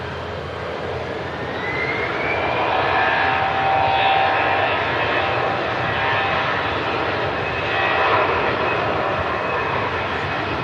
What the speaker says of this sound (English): Airbus A380, look at that.